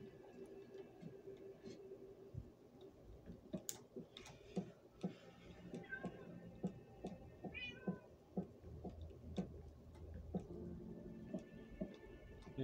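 A cat meows repeatedly in Minecraft, soft short calls recurring over a quiet ticking game background, fairly faint and with no talking.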